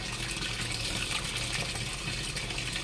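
Tap water running steadily into a container to soak clothes, a continuous even gush that stays close and unbroken throughout, with no other sounds.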